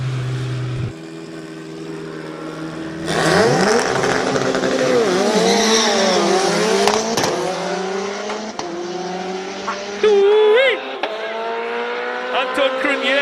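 Subaru WRX STI purpose-built hill climb race car revving hard up a hill course at a Cape Town event, engine pitch climbing and falling through gear changes, with a commentator talking over it.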